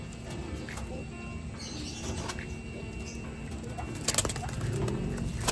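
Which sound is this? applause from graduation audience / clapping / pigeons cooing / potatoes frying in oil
pigeons cooing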